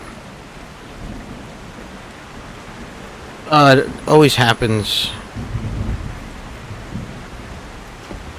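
A video game thunderstorm rumbles low and steady under a hiss of rain, swelling into a heavier roll of thunder while someone talks over it.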